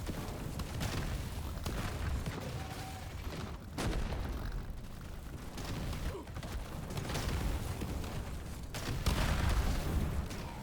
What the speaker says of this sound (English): See, even that huge explosion where we get hit and it drops all the grenades.